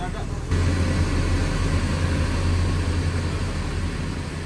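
A sleeper bus (PO Madu Kismo Suites Family) sits idling before departure, its engine giving a steady low rumble that swells slightly after the first half second and holds level throughout, with no speech.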